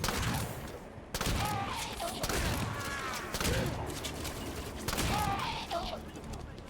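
Rapid gunfire bursts from Halo 5 Guardians battles against Covenant forces, loud and continuous with game music and effects layered under it, no talking.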